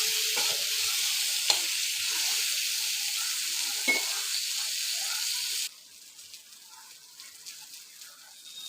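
Dried Bombay duck (loitta fish) seasoned with salt and turmeric fries in a pan, giving a steady close sizzle and hiss that drops to a quieter crackle partway through.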